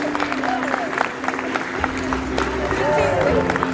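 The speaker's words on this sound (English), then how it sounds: "Big round of applause for our trees." Scattered audience applause at an outdoor bird show in a theme park, moderately loud and mixed with crowd murmur and a voice over a PA, clapping continuing steadily for a few seconds.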